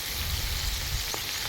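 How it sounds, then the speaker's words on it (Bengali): Fish sizzles in hot oil in a pan, a steady close crackling hiss with a faint stirring scrape, and no voices. "এবার নাড়িস না, ভাজা হোক"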